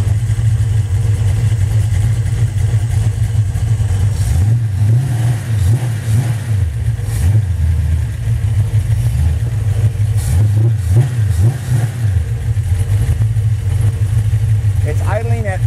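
A 5.9 Magnum V8 engine pulled at about 198,000 miles and built into a motorcycle runs loudly and close, with a steady idle rumble and a few surging revs partway through.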